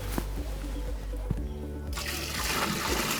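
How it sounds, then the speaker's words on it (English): Water poured into cow dung to make a slurry for a biodigester, a soft trickle that swells into a fuller, louder splashing pour after a short pause, close by with no talk. "So you can keep adding water"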